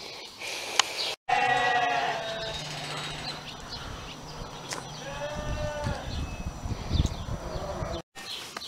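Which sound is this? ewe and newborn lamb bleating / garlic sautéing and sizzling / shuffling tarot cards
ewe and newborn lamb bleating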